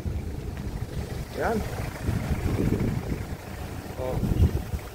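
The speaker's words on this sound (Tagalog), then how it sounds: "sobrang lakas ng hangin" Strong wind buffets a small fishing boat at sea, a rough, gusty rumble running under a man's occasional short remarks.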